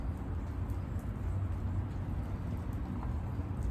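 Steady rain falls outdoors in a continuous, even wash of noise with dense low rumble, no voices heard.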